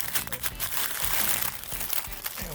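Digging a black morel mushroom loose from the ground, with close crunchy, crinkling scrapes and rustles of soil and leaf litter that come in several bursts.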